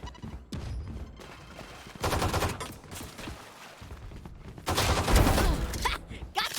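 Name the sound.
pistol gunfire in a video game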